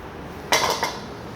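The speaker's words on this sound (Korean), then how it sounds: "밑에 누르 붙을 수가 있으니까 꼭 한 번씩 저어 주셔야 됩니다" A utensil knocks and scrapes against a pot while glutinous rice dough is stirred in water, making a brief double clatter, close and fairly loud, with no talking.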